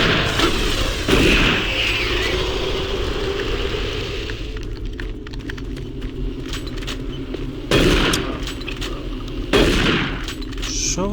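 Gunfire rings out in the first-person shooter Doom 3: a dense, loud stretch of shots and booms, then quieter clatter, with sharp blasts bursting out again near the end.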